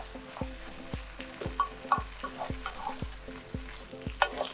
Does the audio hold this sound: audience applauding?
no